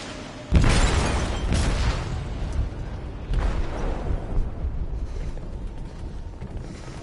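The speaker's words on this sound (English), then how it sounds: "They detonated an explosive in the hold." An explosive detonating in a ship's hold in a video game, a sudden deep blast followed by rolling rumble, then a second heavy boom that fades into low debris noise.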